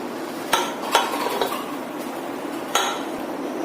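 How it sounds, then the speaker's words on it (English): A spoon clinks against a bowl while chicken marinade with turmeric is mixed for biryani, a few sharp metallic taps over steady stirring and scraping, close and fairly loud, no talking. "Mix it thoroughly and let's add some turmeric powder."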